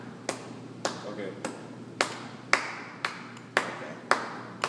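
A class claps a rhythm together: about nine sharp, fairly evenly spaced claps ring out over quiet room tone, each one crisp and close.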